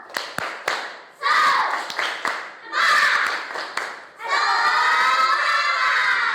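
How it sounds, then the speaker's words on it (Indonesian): Schoolchildren in a fourth-grade classroom doing a rhythmic spirit clap, tepuk semangat: sharp patterned claps in short bursts alternating with loud group shouts and chanting, ending in a sustained shouted cheer. "Kita mau tepuk semangat."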